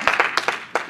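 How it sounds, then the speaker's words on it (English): Congregation giving a brief hand clap of praise at a church service, a few scattered claps over less than a second, fairly close and moderately loud with no talking. "Give God a hand clap of praise"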